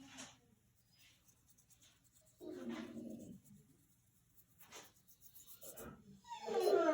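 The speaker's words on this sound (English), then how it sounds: "Our dog is a little older, so sometimes he gets confused or he doesn't want to go out." An older dog whimpers faintly indoors in a few soft, separate bursts with quiet breathing between them, growing a little louder toward the end.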